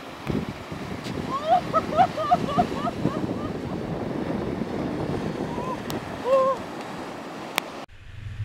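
Cold North Sea waves wash onto a beach at Center Parcs, a rolling surf rumble roughened by wind buffeting the microphone, with a few faint bird calls partway through.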